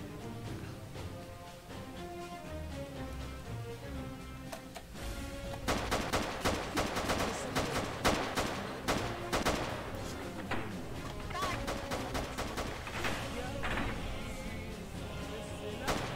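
Rapid gunfire inside a Roblox game ad, bursts of shots crackling over music-like game sound, growing denser partway through, with a player's voice talking throughout.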